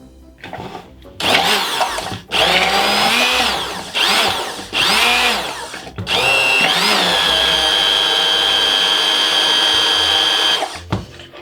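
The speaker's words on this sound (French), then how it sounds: "Donc ce mixeur, il permet tout simplement de faire une émulsion parfaite. C'est ce qu'on appelle tout simplement un mixeur plongeant." Immersion blender emulsifying milk into chocolate ganache, a loud steady motor whine in several bursts that start and stop, then one long continuous run before cutting off, with no talking over it.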